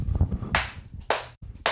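Studio-style hand claps, three sharp bright smacks spaced about half a second apart, close and loud, with a low murmur of voices underneath.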